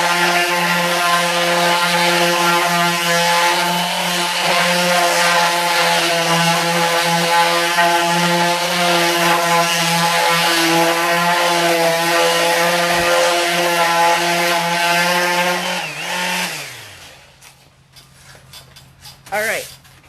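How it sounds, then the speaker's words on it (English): A power sander works the wood of a homemade DIY office desk, a loud steady whine with a strong droning hum holding for about sixteen seconds before it winds down and cuts off, leaving brief faint clatter. "I come back with our sander again, because I don't like that fresh look necessarily"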